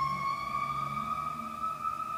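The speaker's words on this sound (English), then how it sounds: "the ambulance just went by" An ambulance siren sounds in the distance, a steady high wailing tone with harmonics that drifts slightly in pitch as the vehicle passes, holding fairly level throughout with no talk.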